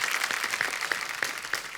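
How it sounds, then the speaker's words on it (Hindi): A brief burst of applause from a small television show audience, scattered claps rattling quickly for under two seconds. "पूरी स्टार कास्ट के लिए जोरदार तालियां"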